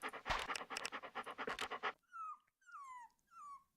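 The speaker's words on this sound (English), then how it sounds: "Oh no, there's stray dogs there." Stray dogs in a video game pant in quick, raspy bursts close up for about two seconds, then fall away, leaving a few thin electronic tones.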